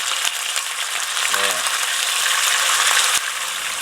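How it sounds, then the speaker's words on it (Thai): Salted fish frying in a modest amount of hot oil over low heat gives a steady, close broadband sizzle that holds throughout, with a brief low murmur partway and a small clatter near the end. "น้ำมันร้อนแล้วก็ใส่ปลาลงทอดเลย"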